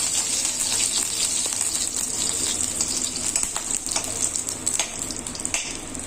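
Dried red chillies fry with browned garlic for a Chhattisgarh radish-greens (muli bhaji) dish, a loud, continuous hiss and sizzle close by, with scattered scraping clicks of a spoon stirring through it.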